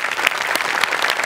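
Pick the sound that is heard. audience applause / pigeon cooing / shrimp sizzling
audience applause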